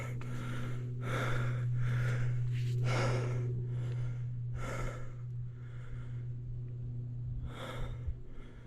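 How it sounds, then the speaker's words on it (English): Heavy, ragged breathing after a hike up Flatside Pinnacle in the Ouachita National Forest, with repeated loud close exhales and gasps in irregular bursts over a steady low hum. "for all the heavy breathing going on"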